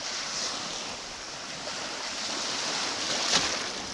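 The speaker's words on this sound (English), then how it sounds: "Look at that white water up there. It's just jumping." Continuous broadband rush of churning white water rapids on a flooded Antietam Creek, heard from a boat, steady and fairly loud, with a brief splash near the end.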